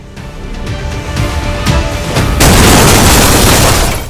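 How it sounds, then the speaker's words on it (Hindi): A Scandinavian Airlines Flight 751 plane crash is rendered as a booming explosion effect, with a loud deep rumble, scattered cracks and pops, and a heavier blast swelling near the end, dense and close. "और तेज धमाके के साथ इसके टुकड़े टुकड़े हो जाते हैं।"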